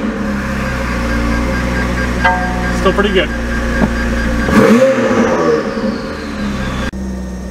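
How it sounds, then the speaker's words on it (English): A McLaren 570GT fitted with a Fabspeed exhaust and no catalytic converters fires up and revs, a close mid-pitched engine burst with a sharp blip midway that settles back to a steady idle, with a voice speaking briefly over it. "here's a not so cold start on a 570 GT with a fab speed exhaust and no cats, so it should sound pretty good"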